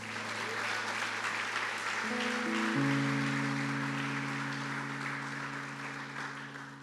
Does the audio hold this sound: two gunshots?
no